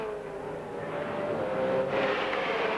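A touring car driven hard during a 1996 race, its engine holding a loud, strained, sustained note that climbs gradually in pitch, with no talk over it.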